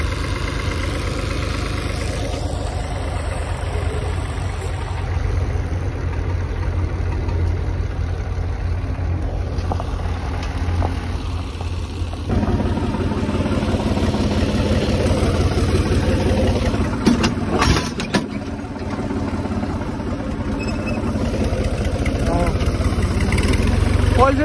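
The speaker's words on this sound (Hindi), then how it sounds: "अपन ट्रैक्टर से चला रहे हैं क्रेशर" Tractor engine steadily running and powering a sugarcane-farm crusher, a loud continuous mechanical drone with some rattling and knocking throughout, joined by brief clattering bursts near the middle.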